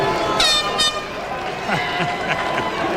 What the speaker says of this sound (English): Oh, the air horns are in here.